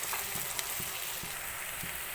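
Onions fry in a pan for chicken biryani, giving a steady, close sizzle with a few soft knocks from stirring.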